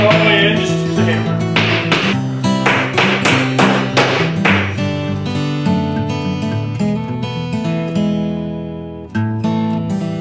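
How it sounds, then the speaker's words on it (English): A hammer taps staples down into the padded top of a homemade gaming table, about a dozen sharp, quick knocks in a rapid series, close and distinct, followed by a few sparser taps. "If your staple doesn't go all the way in, just use a hammer."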